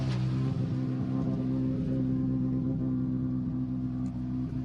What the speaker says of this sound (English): Listen to that car, it's still in stage mode at the moment.